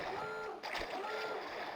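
A video game character plunging into water, heard as one short splash near the middle of a steady game soundscape.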